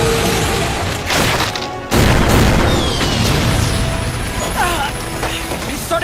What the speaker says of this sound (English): He started shooting!